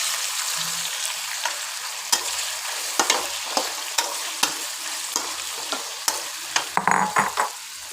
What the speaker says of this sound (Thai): พริกกับกระเทียมหอมแล้วนะคะแล้วก็ใส่ ลูกชิ้นไปเลยค่ะ